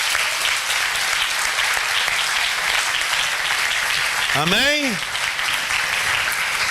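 A congregation at a religious congress applauds, a dense, continuous wash of clapping that fills the space, while a voice rises briefly over it near the end.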